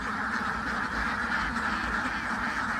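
A flock of ducks on a duck farm quacks continuously, with overlapping calls close by against a steady outdoor background.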